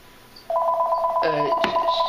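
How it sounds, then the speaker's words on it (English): A telephone rings indoors with a sustained electronic tone that starts abruptly, followed by a brief clatter of handling. "Sorry about the phone."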